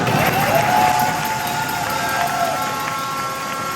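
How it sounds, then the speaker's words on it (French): Crowd at an outdoor strike rally and demonstration claps and cheers for the negotiating committee, a loud, dense wash of noise with a steady tone humming underneath. "je vous demande tout de suite une belle applaudissement"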